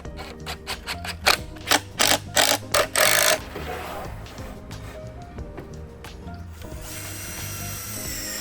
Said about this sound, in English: I did just pre-drill and use some screws and screwed right into the edges